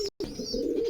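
A peacock pigeon paired with a local pigeon cooing close by, a steady low throaty coo running almost unbroken through a brief moment, with a short gap near the start.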